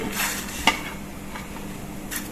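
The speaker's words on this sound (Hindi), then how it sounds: "ये देखिए पानी हमारा उबल गया है। इसमें हम अपनी ये सहजन की फलियां काट के रखी थी, इसको हम डाल देंगे।" Chopped moringa drumstick pods go into a pot of boiling water. One short clatter and splash rises over a steady bubbling hiss, heard up close.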